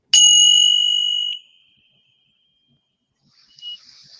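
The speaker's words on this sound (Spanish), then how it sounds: "Volveré a tocar la campana." A meditation bell is struck once during a mindfulness session. It gives a clear, bright ring that fades over about a second and a half, then silence follows, with a faint soft sound near the end.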